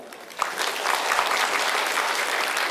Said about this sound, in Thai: ผมก็ขอเชิญชวนทุกท่านที่อยู่ที่ประชุมได้ปรบมือต้อนรับท่านรองทิบดีนะครับ